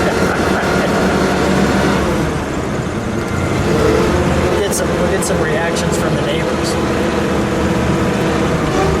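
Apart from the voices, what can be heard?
1931 Hudson Series U Phaeton car driving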